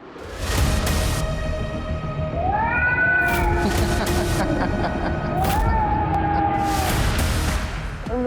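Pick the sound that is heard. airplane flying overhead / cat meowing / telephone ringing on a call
cat meowing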